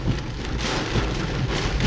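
Heavy rain from a storm in Sohar, Oman, a steady dense hiss of downpour beating on surfaces, loud and continuous throughout.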